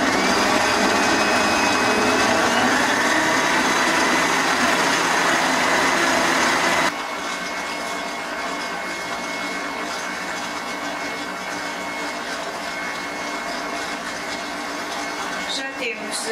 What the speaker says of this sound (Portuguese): Já temos as gemas com o açúcar bem batidos